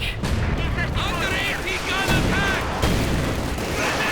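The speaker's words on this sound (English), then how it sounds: "Mortar rounds being exchanged left and right" Mortar rounds exchanged in Company of Heroes 2, a battle of dull booms and crackling gunfire over a continuous low rumble, dense and layered, while someone commentates over the combat.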